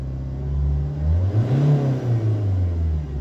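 A Citroën Jumpy 2.0 HDI diesel engine revved up to about 2000 rpm, its loud close drone rising, holding and easing off within a few seconds.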